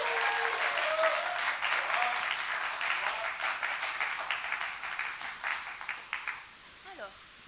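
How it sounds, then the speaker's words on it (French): An audience at a live slam poetry show in France applauds warmly, the dense clapping slowly thinning to scattered claps as a voice starts speaking near the end. "Je vous demande, s'il vous plaît, un franc applaudissement"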